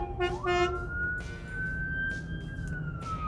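An ambulance siren wails with a rising then steady tone, fairly loud and passing nearby over traffic rumble.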